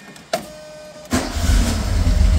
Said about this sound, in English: And you just start it up just like that.